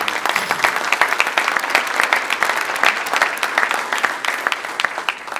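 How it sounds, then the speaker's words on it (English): Dense, loud audience applause fills a student breakfast honoring valedictorians and salutatorians, a continuous crackle of many hands sustained for several seconds without letting up. "I want to give an applause to Errol Davis"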